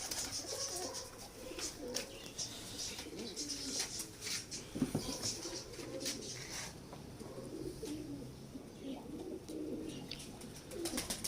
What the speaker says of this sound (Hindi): ये दोस्तों हीरा लाल कबूतर है